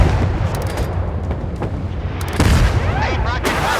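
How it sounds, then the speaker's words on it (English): Naval guns firing in a warship combat video game, with heavy booming shots and sharp cracks in quick succession, loud and close, layered with explosion rumble. "Fire at the enemy."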